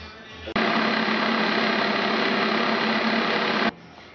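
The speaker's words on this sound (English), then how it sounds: "Let's get started on grinding up the almonds." An electric grinder whirs as it grinds almonds for marzipan, a loud steady high-pitched motor drone that starts suddenly after a short pause and stops abruptly about three seconds later.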